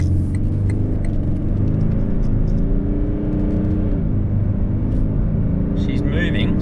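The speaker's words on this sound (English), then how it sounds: "She's moving, so you can hear and feel the 10-speed gearbox doing its thing." Toyota LC300 Land Cruiser with a 10-speed gearbox towing a camper trailer as it accelerates, heard from inside as a loud, steady engine and road drone with a low rumble throughout.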